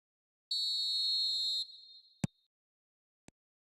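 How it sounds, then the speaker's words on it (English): A referee's whistle in an eFootball video game, one sustained shrill blast starting the match, followed by a couple of short sharp clicks. "There's the whistle, and here we go."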